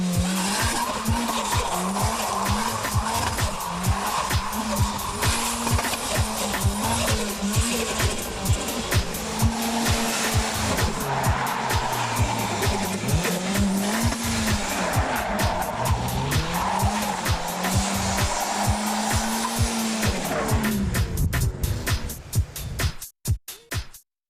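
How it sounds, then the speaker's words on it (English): A car spins donuts in the snow atop Mount Wellington, its engine revving loud and continuous with wavering pitch as the tires squeal and skid, fading out abruptly at the end. "Donuts in the snow."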